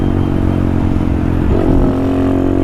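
Honda Grom motorcycle engine revving hard and accelerating, a loud, close, steady mid-pitched drone with a rising pitch sweep about midway, ridden flat-out with no talking.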